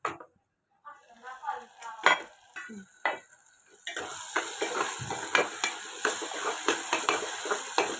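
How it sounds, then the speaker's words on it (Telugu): Mushroom curry with tomato and masala is stirred in a pan, with a few scraping clinks of the spoon at first, then a steady close sizzle broken by repeated stirring scrapes. "చూడండి ఇలా మెత్తగా వేగిన తర్వాత మధ్య మధ్యలో నేను కలుపుకుంటూ ఉన్నాను"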